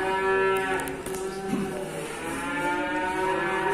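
Brangus cattle at a cattle trader's give a long, loud, drawn-out moo, close and sustained, with faint background noise and no talk.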